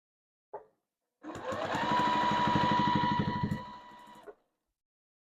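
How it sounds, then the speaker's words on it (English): A sewing machine stitches binding onto a scrappy quilt, with a short click of the presser foot, then a close, steady three-second run of fast needle strokes, then a brief click as it stops. "I'm going to push my presser foot down. And I'm going to sew up a ways"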